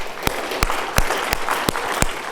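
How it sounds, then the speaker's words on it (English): Seminar audience giving a round of applause, a steady wash of clapping with a few sharp louder claps punctuating it at regular intervals. "give yourselves a round of applause"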